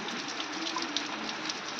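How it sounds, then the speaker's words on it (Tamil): Heavy rain pours down in a steady, dense hiss with scattered droplet splashes, close and continuous, with no voices. "காலையிலேருந்து சரியான மழை ஊற்றுது பாருங்க"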